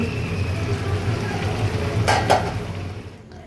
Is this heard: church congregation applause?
no